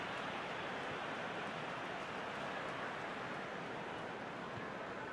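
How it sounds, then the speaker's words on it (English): Steady hiss of rain falling over a football match in eFootball 2021, an even wash of noise that holds constant throughout without individual drops standing out. "Just starting to get the first signs of rain here."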